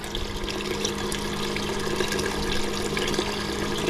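A quart of water is poured into a gumbo pot in an RV kitchen, making a steady close splashing, gushing rush that holds evenly throughout without talking.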